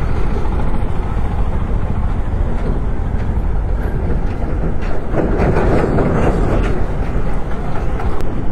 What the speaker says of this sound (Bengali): একটা ট্রেন পেয়ে গেছি